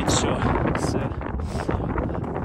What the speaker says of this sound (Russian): а то тут ветер сильный